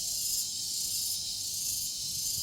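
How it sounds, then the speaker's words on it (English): Loud, continuous high-pitched cricket chirping at Bali Zoo holds a steady shrill drone, close and insistent, with no voices over it. "little cricket thing or something"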